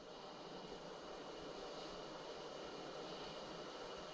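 Atlas V rocket climbing through flight on its RD-180 engine, a steady, distant broadband roar with even, unbroken rumble at low level, no voices present.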